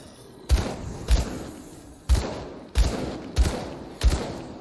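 Ranged gunfire in the action RPG Grim Dawn, six heavy booming shots spaced roughly every half to one second, loud and close with rumbling decay between them, no talk over them.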